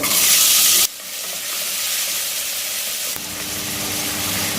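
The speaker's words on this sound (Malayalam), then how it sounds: "ഇതിലേക്ക് ഒരു സവാള ചെറുതായി മുറിച്ചെടുത്തത്," Chopped onion is frying in hot oil with cardamom, cinnamon and clove, giving a steady, loud sizzle and hiss close by. A sharp burst opens it as the onion lands, then the frying continues evenly without talk.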